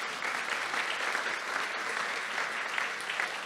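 An audience at a Breakfast for Champions event claps in a steady, dense round of applause that carries on evenly from start to finish, a little distant.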